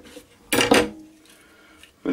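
A knife slices a small yellow bell pepper on a cutting board, two quick close crisp cuts followed by quiet handling and a final cut at the end.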